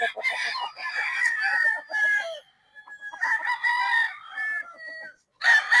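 A Golden Boy Sweater gamefowl rooster crows loudly and up close, giving two long, strained calls broken by short clucks, then starts another crow at the end.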